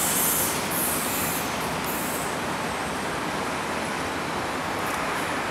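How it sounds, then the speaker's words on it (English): The 534 train rolls past at sunset, a loud, steady wash of broadband rail rumble and hiss that holds evenly throughout with no voices. "That's the 534 train."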